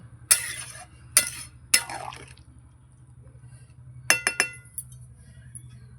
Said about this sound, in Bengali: এবার আমি তরকারিটা ঢেকে দেব